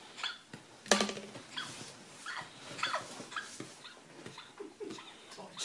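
A Chihuahua gives small whimpers, yips and snuffling noises, soft and close, in short irregular bursts with a sharper yelp near the start.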